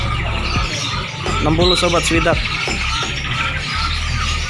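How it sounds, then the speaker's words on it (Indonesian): Cucak kumbu birds call at a busy bird market, with chirps and squawks close by over a loud hum and people talking. "ini cucak kumbu nih, cucak kumbu"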